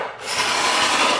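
A Roarockit Edge cabinet scraper shaves wood in one continuous, close, bright rasping stroke that swells quickly and holds steady with no talk.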